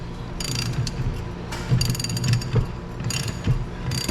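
A wheel bearing puller is ratcheted to pull the rear wheel bearing off a 1993 Lincoln Mark VIII, giving repeated bursts of sharp metallic pawl clicks separated by short pauses, close up with no talking.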